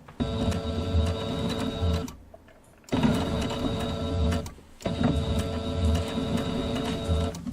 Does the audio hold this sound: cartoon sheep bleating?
no